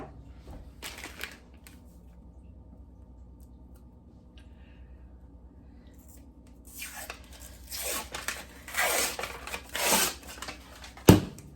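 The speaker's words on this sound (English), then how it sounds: "we're gonna go ahead and open up our biscuits here" A package of refrigerated biscuits is opened in a kitchen, with crinkly tearing and rustling of paper and packaging that grows busier toward the end and ends in a sharp pop. The sounds are close and fairly soft.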